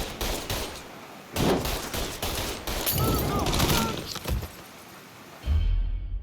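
Gunfire erupts in the Mafia 3 video game, dense fusillades of shots in several loud bursts with rapid crackling volleys, separated by short lulls and a final heavy burst.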